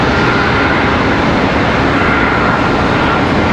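An American Airlines Airbus A321 arriving from Phoenix touches down with a loud, continuous jet roar and rumble that holds steady throughout, close by and without talk.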